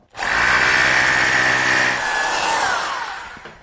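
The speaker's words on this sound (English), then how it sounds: "the drill's gone straight through the timber into the brick" A power drill whirs loudly for about three seconds, its pitch shifting slightly as it bores through timber into brick, then spins down.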